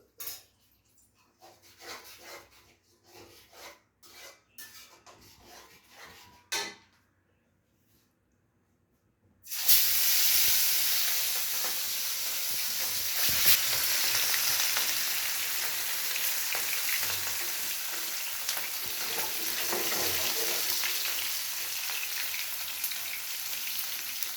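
Fish coated with turmeric, salt and lemon starts sizzling in a hot pan after a few kitchen clatters and a brief pause, then a loud, steady crackling fry continues to the end.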